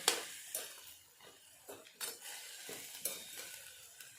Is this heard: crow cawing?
no